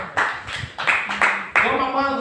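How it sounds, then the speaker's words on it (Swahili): A church congregation claps for Jesus during a sermon, several loud bursts of clapping in quick succession, with voices calling out over them. "Pigia Yesu makofi mazuri"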